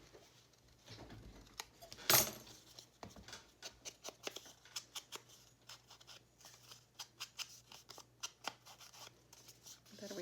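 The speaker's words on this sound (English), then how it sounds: "trim around the corners" Scissors trimming around the corners of paper for a 12x12 mini journal: quiet, close repeated snips in an uneven rhythm, with a louder rustle of paper handling early on.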